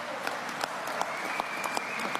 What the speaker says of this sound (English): I love the applause from the audience in that one, too.